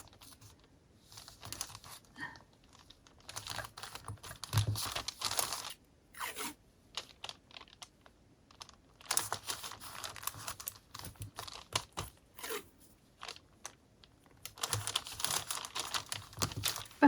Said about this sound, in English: I'm going to cut it into an egg shape,